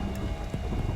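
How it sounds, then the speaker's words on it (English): Steady rain falls outdoors at night at a crime scene, a dense continuous hiss with low rumbling, constant and moderately loud with no voices. "it starts to rain again"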